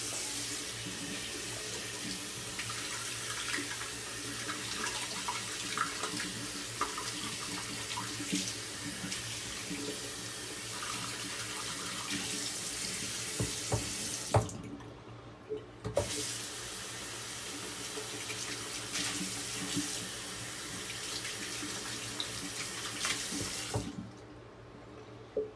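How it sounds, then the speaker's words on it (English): Water running steadily from a tap as hands and a shaving soap puck are rinsed, a continuous close splashing hiss with two brief breaks in the flow. "Rinse off my hands, rinse off the puck."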